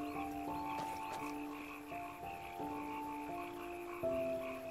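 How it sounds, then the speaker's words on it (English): Frogs croak in the video game Enderal, a layered chorus of repeated tonal calls overlapping at a moderate distance against a soft ambient background. "I hear frogs."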